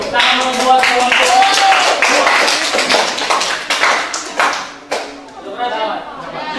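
Classroom applause for a student group about to present its work: a burst of close, dense clapping mixed with chatter that thins out and fades after about five seconds.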